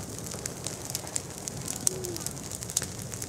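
An outdoor Easter bonfire at a church ceremony in Korczyna crackles with steady fine popping and hiss, quiet and continuous, with faint birdsong in the background.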